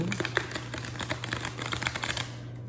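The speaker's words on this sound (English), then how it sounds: "I'll shuffle them this way so they don't get so bent up." A deck of tarot cards is shuffled by hand, giving a busy, crisp stream of rapid papery flicks and taps at close range over a low steady hum.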